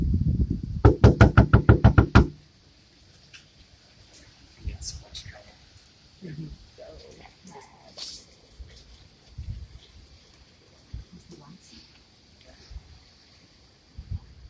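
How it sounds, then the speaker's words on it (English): Loud, rapid pounding on a door bursts out in a quick run of heavy blows for about two seconds, then gives way to a quiet dark room with faint shuffling and low voices. "Pound on the door."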